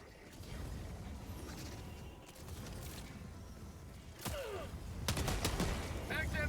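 Gunfire in the shooter video game Helldivers 2, sharp bursts and a few loud reports rising over a steady mechanical background rumble, with brief clicky weapon mechanism sounds near the end.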